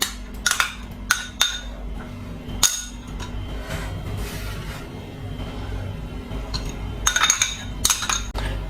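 A spoon stirring beetroot pachadi with thick curd in a bowl, with sharp clinks of metal on the bowl in uneven bursts, close and clear over a low steady background hum.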